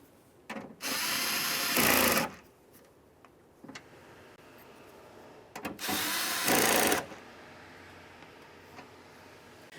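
Two bursts from a power drill or impact driver snugging the window regulator mounting bolts inside the door of a 2011-2020 Toyota Sienna, each run about a second and a half long, close and loud, with quiet handling noise between.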